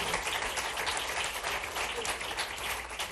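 An audience breaks into applause at a live comedy talk show, a dense, steady wash of clapping that stays loud and continuous throughout, with faint voices mixed in underneath.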